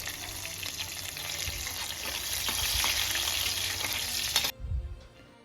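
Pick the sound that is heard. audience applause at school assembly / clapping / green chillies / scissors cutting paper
green chillies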